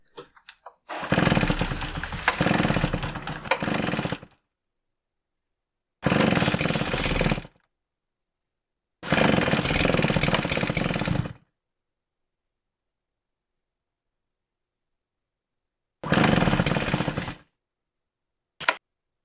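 A Husqvarna 580BTS backpack blower engine with a knocking fault roars in four separate loud bursts of several seconds each, separated by silence, ending with a very short final blip.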